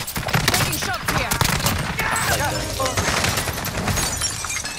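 Rapid gunfire in Call of Duty Warzone during a Resurgence Quads match, with dense bursts of shots and sharp cracks of breaking debris, loud and continuous, under game voices and chatter.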